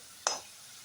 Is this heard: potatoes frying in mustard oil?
yes